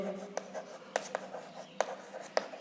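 Pen writing an inequality equation during a class 10 maths lesson, quick scratchy strokes and taps in short bursts, up close, with faint voice-like sound underneath.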